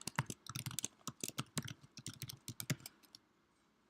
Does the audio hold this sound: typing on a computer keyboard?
yes